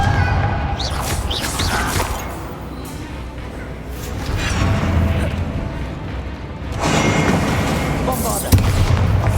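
Confringo fire blast spell in Hogwarts Legacy combat, several heavy booming blasts and rumbling impacts spread across the stretch, loud and close, with battle noise and voices mixed in.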